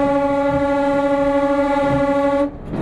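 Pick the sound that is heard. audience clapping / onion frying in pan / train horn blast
train horn blast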